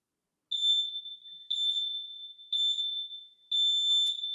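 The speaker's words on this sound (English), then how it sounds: "10-second timer is counting down over my shoulder here," A workout interval timer gives four evenly spaced, high, clean electronic beeps about a second apart, each one held briefly, in an otherwise quiet room.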